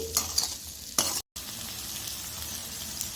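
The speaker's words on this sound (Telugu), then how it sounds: "తగినంత పసుపు, కరివేపాకు, తగినంత ఉప్పు వేసి ఫ్రై చేసుకోండి." Turmeric, curry leaves and salt frying in a pan for egg pulusu, a close sizzle broken by a few sharp stirring scrapes and clatters, with a brief dropout partway through.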